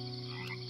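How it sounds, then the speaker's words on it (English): Frogs croak in a brief, steady, close burst of low, buzzing, tonal calls that fill the short moment without pause. "The familiar croaking of frogs instantly brought Carla back to her childhood"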